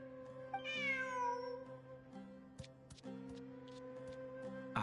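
A cat meows in the video game Genshin Impact, with one long, drawn-out meow near the start followed by several short, sharp clicks and blips, all over a steady tonal game-music background.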